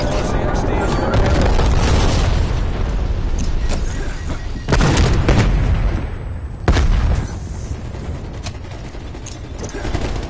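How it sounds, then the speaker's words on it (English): Heavy booming explosions from a napalm strike in a Call of Duty game rumble loud and continuous, with sharp blasts near the middle and later on, under steady game noise. "Enemy napalm strike incoming."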